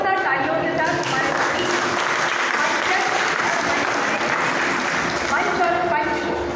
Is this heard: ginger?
no